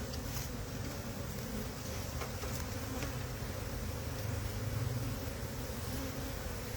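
Honey bees buzz in an open hive during a beekeeping inspection, a dense, steady, close drone with a few individual bees whining past near the ear.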